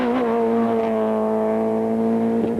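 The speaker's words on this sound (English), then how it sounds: "Blackman was going great guns in the 2-litre Group N Sentra" A 2-litre Group N Nissan Sentra rally car at full throttle on a 1997 rally, a loud, close, sustained engine drone with steady pitch and no talking.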